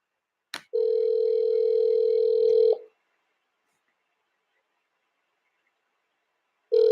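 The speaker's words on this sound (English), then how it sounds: "Now answer the phone" Ringback tone on a phone call placed to a Colombian network: a long steady electronic tone about two seconds long, then a pause, then the tone starting again. Sounds clean and fairly loud, with no talk over it.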